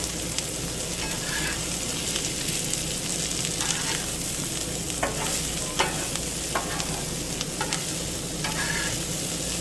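Oil sizzles and crackles on a hot Blackstone flat-top griddle on a houseboat, a dense, steady frying hiss close up, with scattered louder pops and spatters and no voices.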